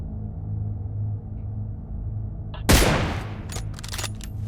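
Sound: gunshots in a video game

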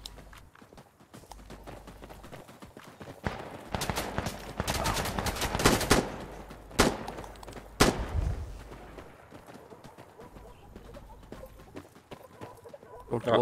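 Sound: gunfire in the video game Insurgency

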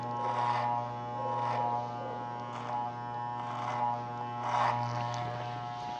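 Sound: electric hair clipper finishing a haircut

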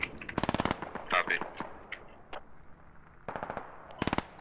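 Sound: gunfire in a video game (SquadOps)

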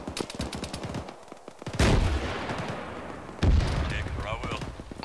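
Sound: gunfire in a military video game (ShackTac mission)

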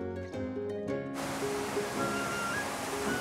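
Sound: flowing water inside Akiyoshi limestone cave

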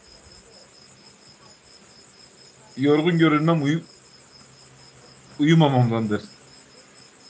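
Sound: crickets or grasshoppers chirping outdoors

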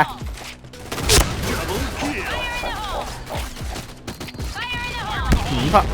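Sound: explosions and gunfire in a zombie video game

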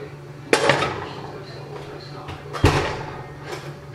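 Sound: chicken pot pie dish taken out of the oven

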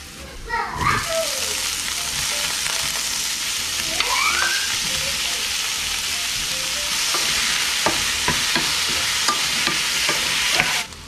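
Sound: minced garlic stirred and frying in a pan

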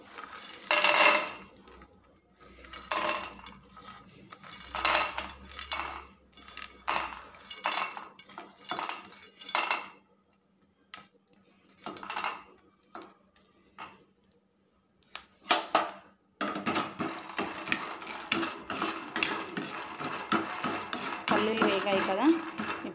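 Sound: roasting peanuts in a hot pan

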